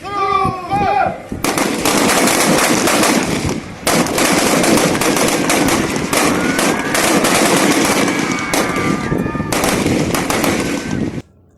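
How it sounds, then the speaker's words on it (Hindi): Armed forces fire a ceremonial volley salute at an Independence Day parade, a loud sustained stretch of rapid gunfire lasting several seconds with short breaks between bursts, rising above a brief murmur of crowd voices at the start. "समारोह में सशस्त्र बलों ने हर्ष फायर करके राष्ट्रीय ध्वज का अभिवादन किया।"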